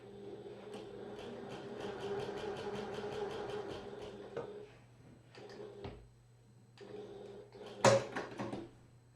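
A domestic sewing machine runs a steady rapid stitching burst along a seam for about four seconds, then stops and starts in shorter runs with small mechanical clicks between, close and moderately loud.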